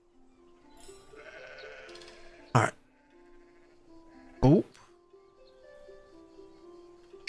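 Sheep in the Greek city-builder game Polismos bleat in two or three sharp, loud cries over soft background game music, with someone talking briefly.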